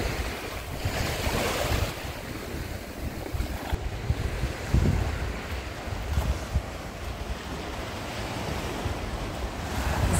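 Sea surf rolling onto the Odesa beach, a steady broadband wash of waves with gusty wind buffeting the microphone, continuous and fairly loud with no voices.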